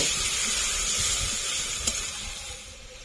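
Spice-rinsing water poured into a pan of frying crab curry masala gives a steady bright hiss and sizzle, close and even, with a small clink partway through.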